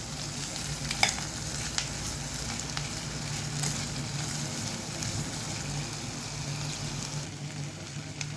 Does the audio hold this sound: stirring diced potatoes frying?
yes